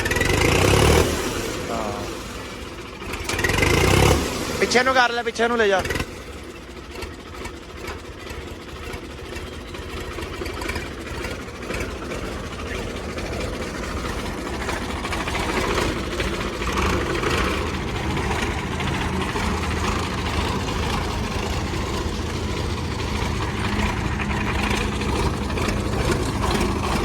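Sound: modified Mahindra 395 Turbo tractor engine running

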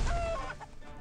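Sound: chicken clucking in the video game What The Hen!

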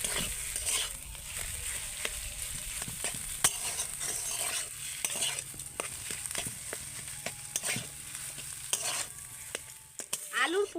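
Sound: stirring potato filling in a pan

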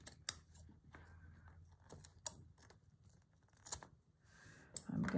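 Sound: cutting fabric for a sewing roll

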